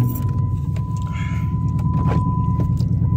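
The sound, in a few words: car engine revving, catless exhaust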